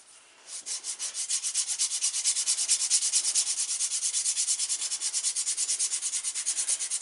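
Steady rhythmic rubbing strokes burnishing a leather edge with gum tragacanth, brisk and even, repeating back and forth at close range with no voices.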